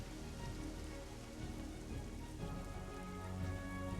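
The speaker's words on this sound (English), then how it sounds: "oh no, it's raining, so my lights are even shinier" Steady rain patters on surfaces in the Black Desert video game, a dense, even hiss that continues alone for several seconds.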